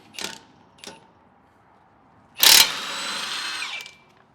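Power tool working bolts off an old rear hitch mount on a Lexus GX 460/470 frame: two brief clicks, then a loud short burst of an impact tool settling into a steady whirring run before stopping.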